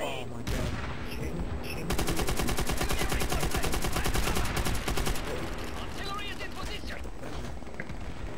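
Machine gun turret firing in World at War, a rapid sustained stream of shots at steady rhythm for several seconds amid other gunfire and battlefield noise, loud and close.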